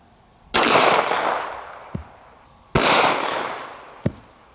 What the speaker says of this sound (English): I have a Springfield 1911, and I'm going to be loaded up with some 230 grain full metal jackets.